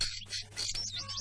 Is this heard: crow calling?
yes